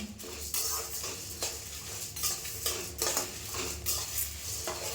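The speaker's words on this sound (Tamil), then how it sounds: "இதெல்லாம் சேர்த்து வறுத்துக்கலாம்." Lentils dry-roasting in a pan with a few drops of oil and asafoetida for drumstick-leaf podi, stirred steadily with a spoon that scrapes and clinks against the pan alongside a soft sizzle.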